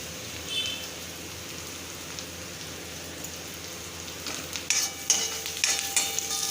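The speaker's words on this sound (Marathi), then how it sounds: "कांदा मध्ये मध्ये हलवायचा" Onion fries quietly in a pan with a soft, steady sizzle, followed near the end by a few clattering stirs of a spoon against the pan.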